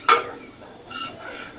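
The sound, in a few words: stirring sugar melting into caramel in a pan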